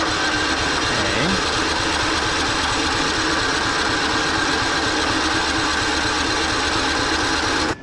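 Engine of a Scotts riding mower being cranked to start, a loud, continuous mechanical drone with a steady buzzing rhythm that holds for several seconds and then cuts off abruptly.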